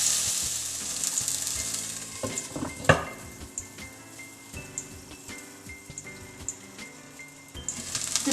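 Okra frying with spices in a pan, a steady close sizzle with occasional clinks and scrapes of stirring utensils against the pan.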